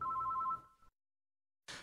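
A telephone bell ringing with a steady two-tone electronic trill, close and clear for about half a second before cutting off into silence, followed by a short burst of noise.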